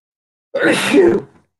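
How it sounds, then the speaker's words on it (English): One short, sharp sneeze bursts out close to the mic, then trails off into silence. "I sneezed."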